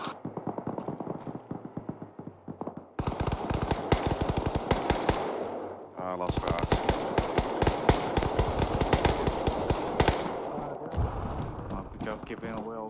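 Rapid automatic gunfire in the military shooter Arma 3, loud bursts of dense shots separated by brief pauses, with voices talking over the radio between and under the firing.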